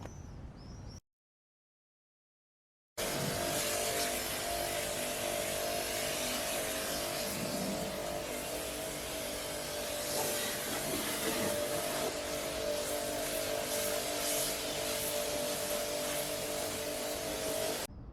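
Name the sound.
pressure washer spraying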